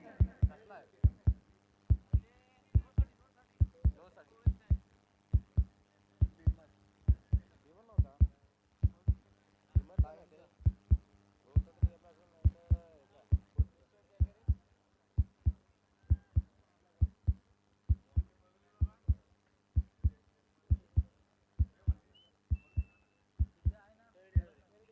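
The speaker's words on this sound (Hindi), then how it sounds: "दिल की धड़कनें।" A heartbeat sound effect thumps in a steady, even double-beat rhythm throughout, deep and clear against a quiet background, with faint sounds between beats.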